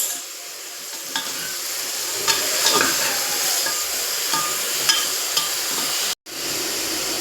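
A spoon stirs turmeric and Kashmiri red chili powder into brinjal frying in a pan, making a steady sizzle with scraping strokes close by and a brief cut to silence near the end.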